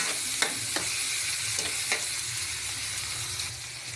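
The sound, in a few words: sautéing fresh shrimp paste (alamang) in a pan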